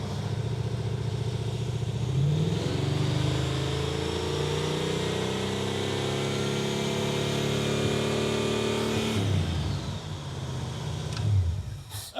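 A Super Camaro engine revs at part throttle, its note rising and falling through a long, steady pull before easing off and then blipping again near the end. It sounds close, loud and alone.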